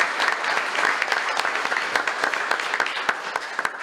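Applause at a city commission meeting during an awards presentation, a short steady burst of clapping from a roomful of people, dense and close, with no pauses.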